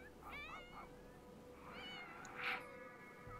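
Cat in The Sims 4 meowing several times, quiet plaintive mews with one louder cry near the end, over a soft background hum.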